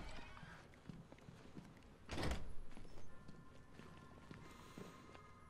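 A door in Batman: Arkham Knight shuts with a single, sudden heavy slam midway, surrounded by low ambient game hum and faint mechanical tones.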